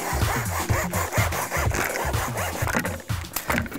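A handsaw cuts through a piece of masonite board in fast, rhythmic back-and-forth rasping strokes, close and loud with no talking.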